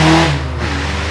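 A VW Golf engine revs up quickly on a test drive, a steady loud engine tone with a falling pitch sweep after an initial rise, close by and without talk.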